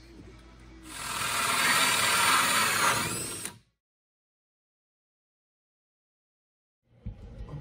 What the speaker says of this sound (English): We're drilling holes for our six pot lights.